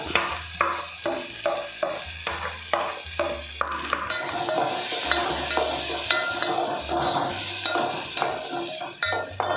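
A spoon scrapes the pan in a steady rhythm while turmeric and masala fry with onion, then a bright, continuous sizzle takes over, loud and close.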